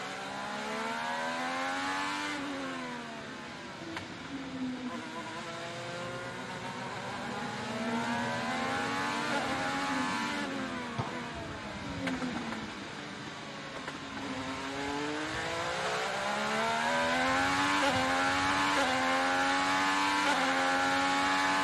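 An IndyCar race car using push to pass on track at The Thermal Club, its engine screaming through repeated rising and falling gear changes, loud and close, with no talk.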